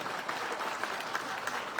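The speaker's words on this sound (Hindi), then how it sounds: "ताली बजाओ यार" A crowd at a public gathering claps in steady applause, a dense patter of many hands at moderate volume, continuous and without voices.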